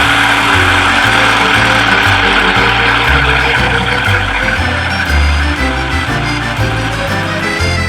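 Food processor blending pesto with olive oil: a steady, loud motor whir with a rough, churning rattle throughout, no talking.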